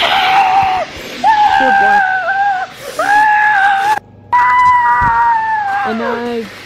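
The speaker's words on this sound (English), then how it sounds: "it's just a bunch of screaming like what?" Screaming and shrieking voices during an EF5 tornado, several high wailing cries in sustained bursts with short gaps, loud and close over a rough background.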